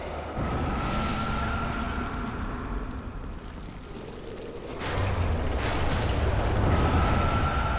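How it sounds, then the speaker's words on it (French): Booming explosions in a video game, a sustained rumbling roar with a sharper burst around five seconds that swells louder and holds through the end, with a low tonal hum underneath. "Alors eux ils vont exploser."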